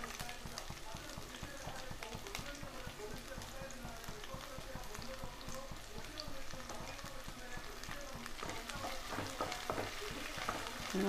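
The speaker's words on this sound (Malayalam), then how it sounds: "നമുക്ക് വഴറ്റിയെടുക്കാം." Onions sizzle and fry steadily in a pan for chicken curry, a continuous close crackle with a faint rain-like hiss throughout, alone without talk.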